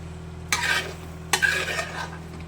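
Chicken fry being stirred in a pan in a villa kitchen in Munnar, Kerala. Two short scraping stirs cut through a low, steady background hum, close and moderately loud.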